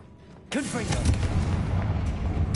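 A fiery Confringo blasting curse explodes in Hogwarts Legacy with a sudden loud boom, followed by a rumbling, crackling burst of debris that keeps roaring for about two seconds.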